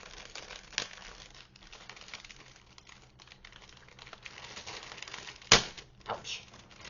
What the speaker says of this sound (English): there's a note in here that I will actually unwrap